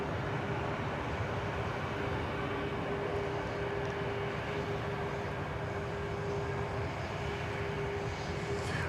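An Air France or British Airways airliner on the runway at DFW gives a continuous, steady engine roar with a sustained tonal hum, loud and unbroken throughout.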